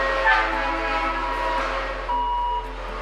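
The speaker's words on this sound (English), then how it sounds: "The air horn of the Loki signals that it's ready to head out for another load." The air horn of a Loki muck train sounds in a Los Angeles subway tunnel under construction, a steady, loud, layered tone held for about three seconds against a low rumble.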